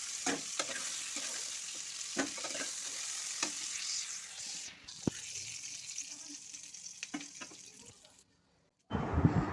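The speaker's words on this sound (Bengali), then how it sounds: "চিংড়ি মাছগুলোকে হালকা করে ভাজা করব লবণ দিয়ে দিলাম হলুদও দিয়ে দিলাম" Tiger prawns fry in a pan with salt and turmeric, giving a steady close sizzle broken by scraping stirs and sharp clicks, then a brief silence before the frying resumes.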